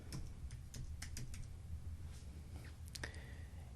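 Keys tapped on a computer keyboard as a search is entered, a quick uneven run of light clicks over a steady low background hum, with no talking.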